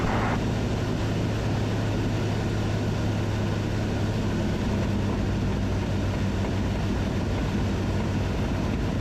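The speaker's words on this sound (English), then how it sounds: "First time up in a light plane." Light airplane engine drones steadily in flight, heard from inside the cabin as a continuous, loud propeller hum with a low tonal pitch and broadband rush throughout.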